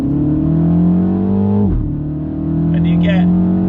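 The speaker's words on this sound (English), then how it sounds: "you get a few burbles on the back end of the car coming out the exhaust" A MINI Countryman JCW engine hums steadily with a rising rev, dips briefly as the gear changes, then settles back, with a few faint exhaust crackles toward the end, close and loud.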